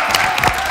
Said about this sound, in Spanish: Fuerte el aplauso para Olga Río.